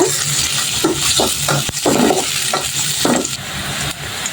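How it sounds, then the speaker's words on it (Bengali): Chopped onions fry in a pan with a constant crackling sizzle, broken by repeated scraping strokes as the spoon stirs them, heard close up with no talk. "এবার আমি এই পেঁয়াজ কুচিটাকে হালকা ব্রাউন করে ভেজে নিব"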